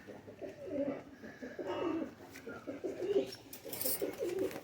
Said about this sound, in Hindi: बाकी माशाल्लाह सब कसूरी कबूतर हैं।